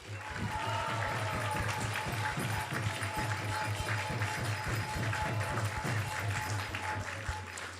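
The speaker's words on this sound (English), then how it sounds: "let's give us a big round of applause" Audience applause at an ISKCON temple gathering after a Krishna Katha talk, steady dense clapping over a low sustained hum, with some voices mixed in, lasting throughout.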